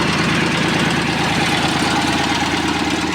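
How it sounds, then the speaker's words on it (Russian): A Mitsubishi MT205 Japanese mini tractor's small engine running steadily nearby, a loud, even chugging idle with no voices. "Вот такой вот мини-трактор Mitsubishi MT-205 в городе Иркутске."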